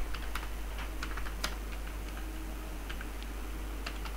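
Typing array code on a computer keyboard: a quick, steady run of close, crisp key clicks over a low constant hum, with no speech.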